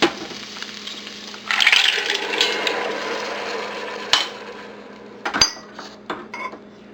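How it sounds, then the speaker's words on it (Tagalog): Mussels (tahong) and sliced ginger tumble into a cooking pot for a tinola soup, a close burst of clattering shells and metallic clinks followed by scattered knocks and scrapes against the pot, with no talking. "ilalagay na natin dito yung luya, yung ginger. At isasabay na rin natin dito yung mussels o yung tahong."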